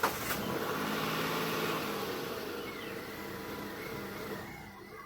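A car engine, unused for a month, starts and settles into a steady idle, the sound loud and close from the first moment and holding broadly even for several seconds, with no voices over it.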